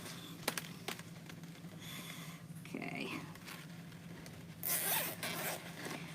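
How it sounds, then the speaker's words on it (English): A plastic zip tie being handled and pulled while making a pom pom bow, with short ratcheting zips and rubbing rasps heard close and quiet, and a few sniffs. "I think I'm actually just going to go ahead and use my zip tie."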